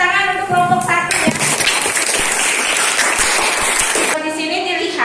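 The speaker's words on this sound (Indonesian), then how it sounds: "Yang kasih tepuk tangan untuk kelompok 1 ya." Classroom applause for a student group during a science lesson on dynamic electricity, a burst of clapping that rises sharply and fills the middle of the clip, with a teacher's voice speaking before and after it.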